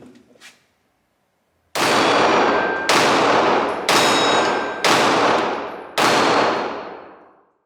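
A Glock 17 Gen 5 pistol fires five loud, close shots at a steady pace about one second apart, each sharp crack trailing into a short ringing decay.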